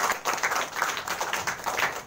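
A group of schoolchildren at a free school in Jiyapur, Azamgarh, Uttar Pradesh claps together in a brief, steady burst of scattered hand claps, fairly close and continuous with no talking.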